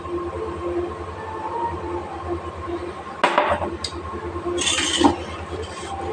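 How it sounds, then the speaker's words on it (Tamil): A kitchen mixer grinder runs with fennel, ginger and other ingredients in a single jar, giving a steady motor hum with a couple of sharper rattling bursts partway through. "இது எல்லாமே ஒரே ஜாரில் போட்டு அரைச்சிக்கணும்"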